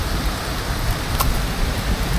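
Rain falling steadily in a forest, a dense even hiss close around the listener with a single faint tick partway through and no voices.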